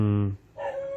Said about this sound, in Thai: ก็เลยมีเสียงน้องหมามันเห่านิดหนึ่ง